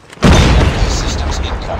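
A frag grenade goes off in Call of Duty Mobile team deathmatch with a sudden loud, close boom, followed by a dense rumbling roar that fades slowly, with a voice callout mixed in.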